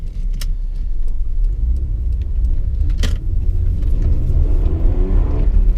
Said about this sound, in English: let's see what this car can do